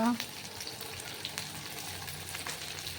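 Onion, chili, tomato and cabbage sizzle steadily in a hot pan, a soft continuous frying hiss with faint scraping, close but fairly quiet.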